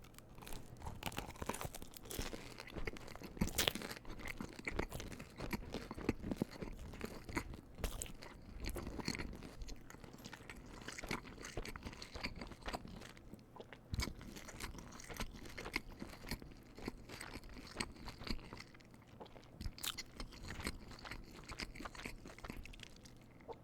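Close-up chewing and crunching of Little Caesars Crazy Puffs and Crazy Bread, a steady run of soft, bready bites and crackly crunches that stays near and quiet throughout, with a few faint scrapes.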